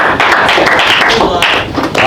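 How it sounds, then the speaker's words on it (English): A small group of people clapping, several quick close claps in a loose, uneven rhythm over about two seconds. "Clap it up for social."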